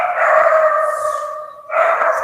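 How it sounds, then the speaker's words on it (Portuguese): A dog gives a drawn-out, howling bark close by, one loud continuous cry that sags briefly and then rises again, with no talking over it. "Eita, cachorro da gota."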